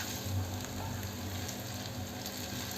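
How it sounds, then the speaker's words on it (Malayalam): White chickpeas frying in oil over a low flame for chickpea fried rice, a steady even sizzle with faint crackles and a low hum underneath, close and continuous with no voices. "ലോ ഫ്ലെയിമിൽ തന്നെ ഇതൊന്ന് ഫ്രൈ ചെയ്തെടുക്കണം. കുറച്ച് ക്രിസ്പി ആവുന്നത് വരെ നമ്മൾ ഫ്രൈ ചെയ്യണം."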